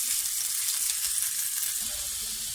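Chicken mince sizzling and frying in a little oil in a frying pan, a steady loud hiss with faint crackle and occasional stirring, no voices.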